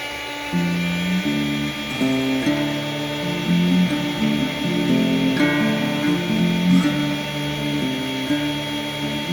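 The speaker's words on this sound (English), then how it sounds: "put them to my slicer. I'm going to slice these out" A meat slicer whirs steadily through trimmed deer meat being cut into strips for smoked jerky, its motor tone rising and dipping as each piece passes the blade, close and continuous with no talking.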